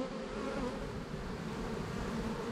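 Honeybees swarm and buzz around an open hive during a hive inspection and super harvest, a dense, steady close-up drone with no pauses.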